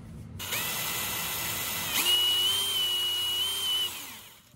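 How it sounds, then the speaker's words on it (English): Power drill boring a 1/16 inch pilot hole while installing a Marrad seat bracket for a Corbeau FX1 Pro seat in a C5 Corvette: a steady high motor whine that rises in pitch midway as the small bit bites, close and alone. "Give a little bit better of a pilot hole for an 1/8 inch bit."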